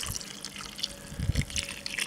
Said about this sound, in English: Now I'm just going to be adding some water.